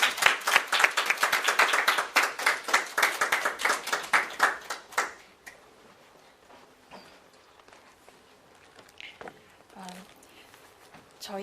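Church congregation clapping to welcome a deacon forward, dense rhythmic applause for about five seconds that then stops, leaving quiet room tone with faint movement.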